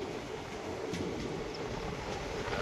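A passenger train rolls through Lamding in Assam, a steady rumbling roar of wheels and carriages heard from on board, continuous and moderately loud with no talk.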